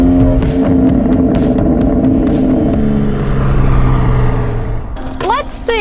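A 2020 BMW X3 M Competition coasts with its engine droning steadily while the exhaust pops and crackles in sharp bursts. A brief high chirping sound rises near the end.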